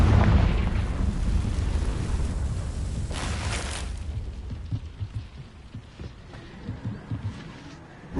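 A Confringo explosion spell goes off in the video game Hogwarts Legacy: a heavy, rumbling boom that starts loud and slowly decays into a low roar, with a brighter crackling burst midway and scattered small impacts trailing off.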